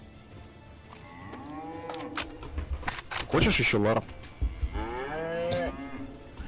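Cows in the video game DayZ moo loudly several times, their long harmonic calls rising over steady background noise while people talk and laugh nearby.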